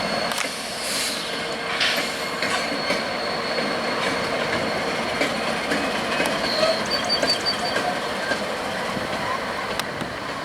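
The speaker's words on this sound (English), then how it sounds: "3 NS locomotives pull east of a switch before reversing back onto a different" Three Norfolk Southern locomotives move along the track near a switch on a rail lead at a terminal, producing a steady close rumble with faint wheel squeal and light rail clatter throughout.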